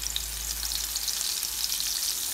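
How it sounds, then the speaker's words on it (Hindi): Green chili sizzles steadily in a hot pan, a close, continuous crackling fry with a faint stirring texture and no talking. "थोड़ी सी चिली इसको मैं पका देती हूँ ऐसी"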